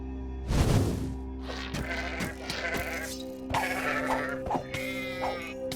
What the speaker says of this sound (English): Another crazy fucking sheep?